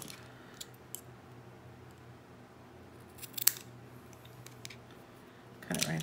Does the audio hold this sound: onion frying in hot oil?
no